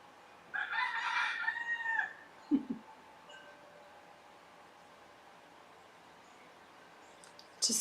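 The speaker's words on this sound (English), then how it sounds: "The rooster has spoken." A single rooster crow rings out clearly for about a second and a half, followed by a short thump and long quiet stretch with a faint hiss before another brief noise at the end.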